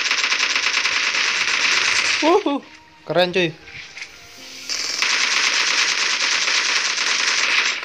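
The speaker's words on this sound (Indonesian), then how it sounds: "ini untuk skill api ya, skill ledakan, tembak ledakan ya" Explosive fire-skill gunfire from PUBG Mobile's Zombie Survive Till Dawn mode: loud, dense bursts of rapid shots fill most of the stretch, broken by a short pause in the middle where a voice speaks.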